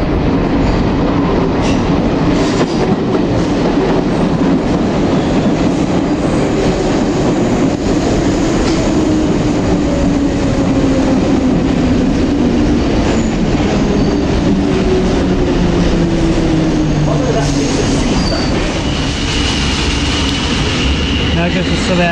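A London Underground Metropolitan line train pulls out of Farringdon station, with loud continuous rumble, rhythmic wheel clatter over rail joints and long rising and falling wheel squeals as it gathers speed, close and filling the platform for over twenty seconds.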